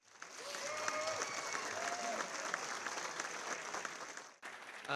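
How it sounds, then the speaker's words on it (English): Gala ball audience gives a round of applause for an honoree, a steady crowd clapping at moderate distance with a faint voice briefly carrying through it, cutting off abruptly near the end. "How about a round of applause for Anthony?"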